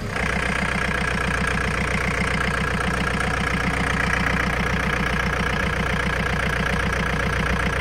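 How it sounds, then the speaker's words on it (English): A 2006 John Deere 4720 compact tractor with 1,400 hours idling after start-up, a loud steady diesel chug with an even rapid pulse throughout, close by and uninterrupted. "I'll just go ahead and start it up so you can see that"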